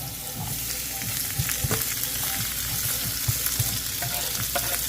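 Guyanese whitebelly shrimp sauté in a hot pan with a steady oily sizzle, broken by occasional scrapes and stirs of a utensil, heard close and alone.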